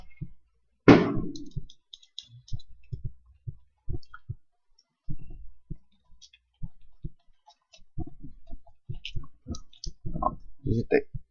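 Computer keyboard typing while entering text into a Word 2010 table, soft scattered clicks in short irregular bursts, close by, with a brief voice near the start.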